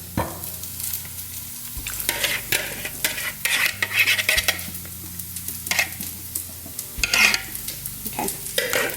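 Beaten eggs and hash browns frying in a pan, a steady sizzle punctuated by irregular scraping and clinking of a utensil stirring against the pan, fairly close and without talk.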